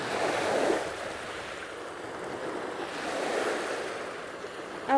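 Waves wash steadily onto a rocky beach in a continuous surging roar with gentle swells. No one speaks, and wind buffets the microphone.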